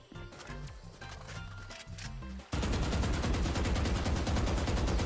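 Rapid automatic gunfire in the video game Valorant, sparse clicks and shots giving way midway to a loud, sustained close-range burst of continuous fire.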